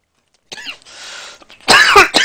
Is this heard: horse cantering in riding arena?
no